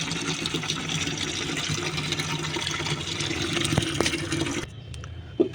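Water poured from a container onto a plant to wash off mealybugs, a steady close splashing and trickling flow that stops abruptly near the end, followed by a couple of faint drips.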